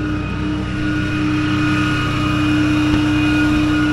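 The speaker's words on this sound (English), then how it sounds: "Let me kick the idle down" A tow truck's diesel engine idles with a steady, even drone and a constant low hum, close by, with no talk over it.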